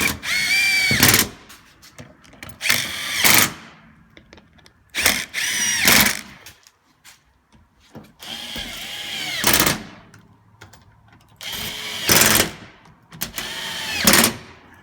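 A power drill tightens the side bolts of an aluminum belly panel on a first-generation Honda Insight, sounding as about seven short, loud, close bursts of whirring and rattling separated by brief pauses.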